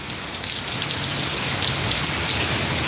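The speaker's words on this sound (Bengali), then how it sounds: "এই যে এখানে যে বৃষ্টির ফুটা পড়তেছে এটা বোঝা যাইতেছে" Rain falls steadily in a village in Malaysia, a dense close patter of drops hitting surfaces with no talking.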